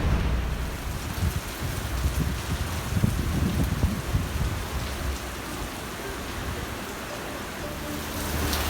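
Heavy rain pours down in a downpour in Sydney, a dense, steady, loud hiss of drops hitting surfaces continuing throughout, with low rumbling underneath and no talking.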